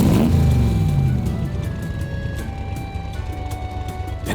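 An orbital bike engine in The Legend of Heroes starts with a loud rising rev, then settles into a steady droning hum that carries on under faint background music.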